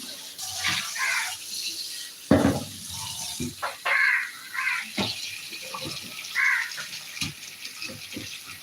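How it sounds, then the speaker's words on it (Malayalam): Tap water runs and splashes as raw chicken is washed in a sink, with uneven gushes, knocks and clatters close by over roughly nine seconds. "നന്നായിട്ട് ചിക്കൻ ഒന്ന് കഴുകിയെടുക്കുക"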